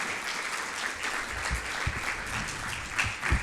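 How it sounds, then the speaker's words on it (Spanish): A church congregation applauds together, a broad, steady wash of clapping with a few sharper individual claps, sustained throughout and with no talking. "Damos una ofrenda de palmas a Dios por su gracia, por su amor"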